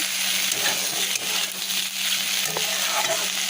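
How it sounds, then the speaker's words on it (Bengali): Steady oil sizzling and crackling of bitter gourd frying in a pan, with occasional stirring scrapes, close and continuous, no talking. "উচ্ছে ভাজা প্রায় হয়ে এসছে"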